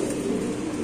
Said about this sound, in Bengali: এখানে আছে আরেক জোড়া লাহোরি কবুতর